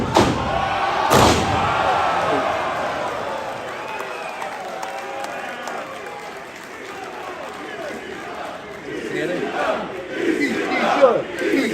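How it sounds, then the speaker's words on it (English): A live crowd at a wrestling show roars and cheers continuously, with a sharp slam early on and swelling shouts near the end, loud and dense with voices mixed throughout. "The crowd is great."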